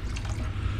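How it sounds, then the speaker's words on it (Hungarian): Hot water pours steadily into a pot of beef stew, a continuous close splashing and gurgling rush with no talk. "Forró víz, tehát magyarul jó meleg víz végül is, és felöntsük."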